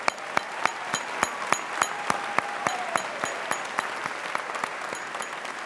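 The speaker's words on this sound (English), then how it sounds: "Let's give them a round of applause." Audience applause for graduating College of Business candidates at a university winter commencement, a steady wash of clapping with sharp rhythmic claps standing out at regular intervals, and a faint tone drifting underneath.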